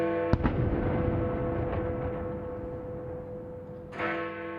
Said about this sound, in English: The bells toll for Remembrance Sunday.